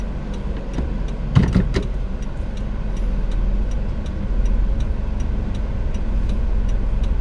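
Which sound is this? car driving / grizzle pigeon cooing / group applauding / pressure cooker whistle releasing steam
car driving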